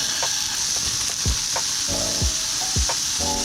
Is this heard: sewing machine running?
no